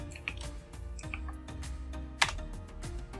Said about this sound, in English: You can type in here C colon and then you can press enter.